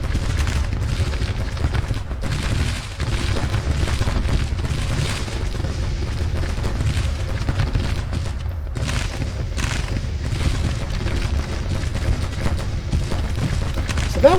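Dense Civil War battle din in the strategy game Grand Tactician: Civil War, rolling musket volleys and deep artillery booms blending into a continuous loud roar that never lets up.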